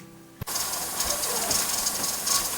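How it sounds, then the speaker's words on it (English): A pressure canner's weighted regulator starts to jiggle as it vents, giving a steady close hiss of escaping steam with faint rattling that begins abruptly after a brief quiet moment. "Our weight is just starting to jiggle and release steam."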